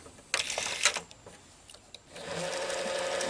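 A Quasar VH5471-K VCR with a suspected capstan motor fault runs in fast forward, with a click and mechanical clatter followed by a steady, faint whirring hum close by.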